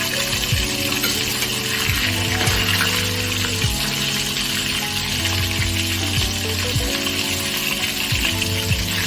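Pangas fish frying in hot oil, a steady sizzle that runs the whole time with no speech, while low droning tones rise and fall underneath.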